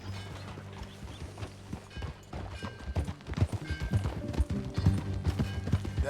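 A horse's hooves clip-clop during riding in the video game Red Dead Redemption 2, with a steady trot that picks up and grows louder over an orchestral score.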